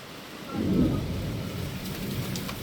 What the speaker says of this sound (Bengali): এই দেখুন বৃষ্টি এসে হাজির